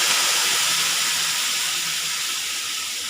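Water hits a hot pan of vegetable curry, giving a steady loud hiss of steam and sizzling that slowly eases over a few seconds, with no voices.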